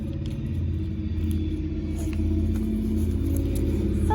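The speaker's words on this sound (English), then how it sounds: "a really loud, obnoxious car drives by outside" A loud car passes outside, a deep, throbbing low engine rumble with a steady pulsing beat that swells louder toward the end, heard through a room with no talk.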